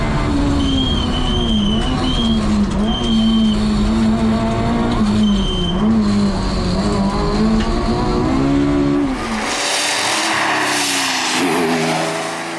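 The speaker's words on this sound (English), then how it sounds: "In TER historic pre-81, Jordanengo tries to manage his lead with his Escort RS, head of Blanchard and Servais." A Ford Escort RS historic rally car competing in a pre-1981 class at a snowy Rallye du Chablais stage, its engine loud and close with revs rising and falling through gear changes before the sound shifts to a hissing, gravelly roar.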